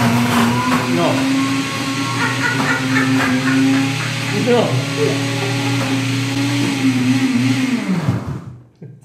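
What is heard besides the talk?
blender blending chickpeas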